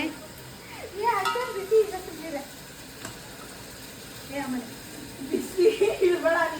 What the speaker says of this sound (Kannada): ಈಗ ಶುಂಠಿ ಬೆಳ್ಳುಳ್ಳಿ ಪೇಸ್ಟ್ ಹಾಕ್ತಾರೆ ನೋಡಿ